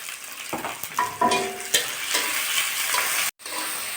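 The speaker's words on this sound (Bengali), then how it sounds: "পেঁয়াজের ভিতর আমি একটু লবণ দিয়ে দিচ্ছি পেঁয়াজটা নরমে তাড়াতাড়ি ভাজা হয়ে যাবে" Chopped onions fry in hot oil in a pan with a pinch of salt, giving a steady close sizzle broken by scraping stirs and a few spoon clatters.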